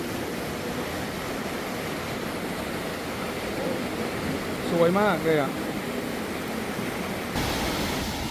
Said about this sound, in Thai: ออกมานอกถ้ำก็ยังมีน้ำตกอีกครับท่านผู้ชมน้ำตกเอาเป็นว่าน้ำตกมันเยอะมากเลยทีเดียวที่เนี่ย